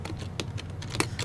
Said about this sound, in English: So now I have to type it all over again.